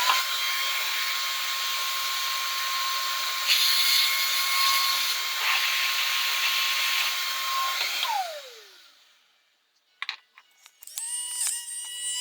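An old Chicago Electric drill whines at high speed while its commutator is sanded with 800-grit paper, a steady close buzzing tone that winds down and stops, followed by a few clicks and handling taps.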